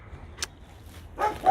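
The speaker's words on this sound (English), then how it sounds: "And the dogs are barking." Dogs near a small peasant farm outside Tangier give a couple of short barks, one sharp yap and then a louder bark, over a low murmur of outdoor background.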